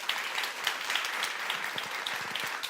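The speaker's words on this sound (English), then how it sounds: "Let's give a round of applause to this panel." An audience at an energy cooperation conference applauds a panel, a steady, even patter of many hands clapping that holds throughout.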